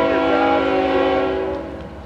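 A CSX westbound mixed freight train led by two locomotives sounds its horn in Fostoria, Ohio, a loud sustained chord fading slightly as it continues for about two seconds with no talk.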